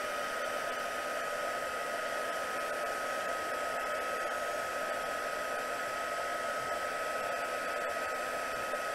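A heat tool for heat embossing blows with a constant loud whirring, hair-dryer-like rush, steady and unbroken from start to finish.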